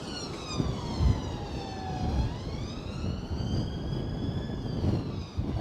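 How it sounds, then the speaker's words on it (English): Emergency vehicle sirens wail in Blackpool during a storm, rising and falling tones sweeping over steady traffic rumble and wind, continuous and fairly close throughout. "Oh, we've got the sirens."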